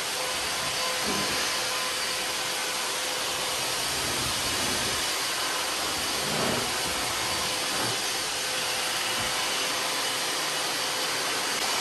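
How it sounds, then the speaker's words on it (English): A Craftsman 12-gallon wet/dry vacuum running as a blower gives a steady, loud, broadband rushing roar with a faint constant whine, unbroken for the whole stretch. "So it's got pretty good blowing power, as you can see."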